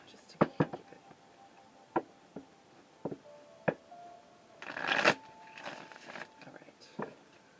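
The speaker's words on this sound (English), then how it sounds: "why don't I go ahead and just shuffle these Gilded Tarot" Gilded Tarot cards being shuffled by hand in a quiet room: a series of soft riffling flicks and taps, followed by a denser burst of rapid card riffles, close and fairly faint.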